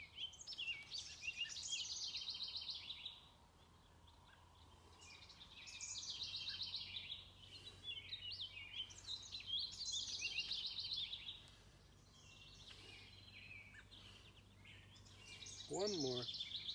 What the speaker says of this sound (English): those birds are reminding me that it's time to greet the morning